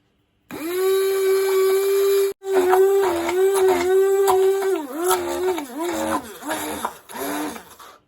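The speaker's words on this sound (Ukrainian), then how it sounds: "Тепер беру блендер і все це перебиваю." Hand blender whirring in a bowl as it whips a cream for a Christmas dessert, a loud steady motor tone that drops briefly, then rises and dips repeatedly as the blade is worked through the thickening mixture.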